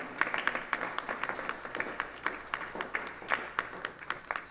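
A crowd at a Hindu temple Sunday service applauds steadily, many hands clapping in a dense, uneven patter at moderate distance.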